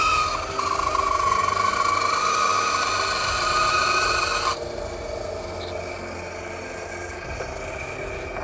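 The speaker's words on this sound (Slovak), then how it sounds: "A pílime ďalej." A small wooden toy cabin being shortened with a saw, heard as a steady close rasping that runs for several seconds before it drops to quieter, softer scraping.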